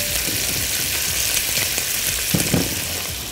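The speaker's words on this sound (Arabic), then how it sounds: "انا شغاله على نار عاليه قوي، زيت الزيتون سخن مولع" Chicken sears in very hot olive oil over high heat, giving a continuous loud sizzle and crackle with a few sharper pops near the end, close up and without talk.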